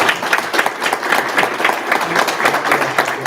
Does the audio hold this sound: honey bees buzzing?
no